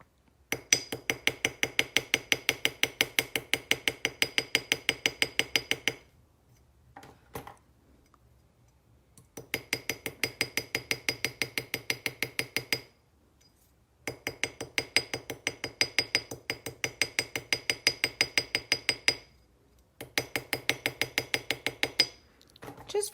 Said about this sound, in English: come back in with that ball peen